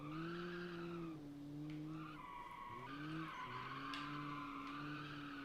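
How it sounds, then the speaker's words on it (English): Car in BeamNG sliding through a handbrake turn, a sustained wailing tire squeal with shifting pitch over a steady engine hum, repeated in several overlapping drawn-out screeches. "Had to use the handbrake there because it wouldn't have gone around otherwise."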